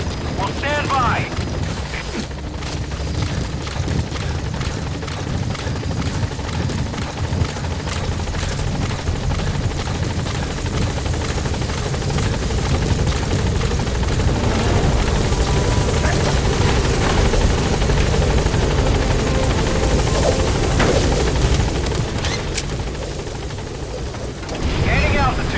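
Helicopter in Metal Gear Solid V: The Phantom Pain, a steady loud rotor drone with mechanical whine and chopping that builds as the aircraft gains altitude, continuous throughout with no voices.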